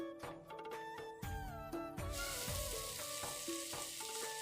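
Jackfruit pieces and potatoes sizzle as they fry in a pan, a steady hiss that grows fuller halfway through, partly buried under background music.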